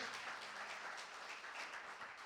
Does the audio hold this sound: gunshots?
no